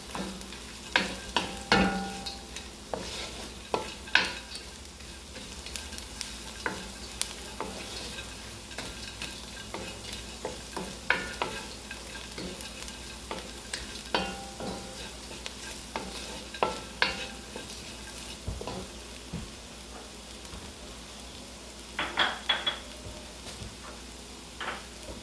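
Onions being stirred in a pan on the stove while preparing a creamy bacon chicken fettuccine with spinach: repeated scraping and clacking strokes of the spoon against the pan, with steady low sizzling between them, no talking.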